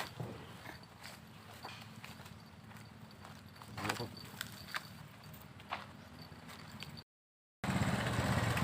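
A horse walking along with steady, close clip-clop hooves on a hard surface, someone speaking over the plodding rhythm before a brief dropout of sound.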